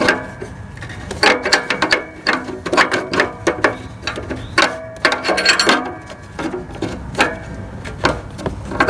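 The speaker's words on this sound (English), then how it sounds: "Let's get the wrench on it." A ratchet wrench turns a socket on the bank 1 sensor 1 air-fuel oxygen sensor of a Toyota Corolla, giving a close, rapid train of sharp metallic clicks in uneven bursts with brief pauses between strokes.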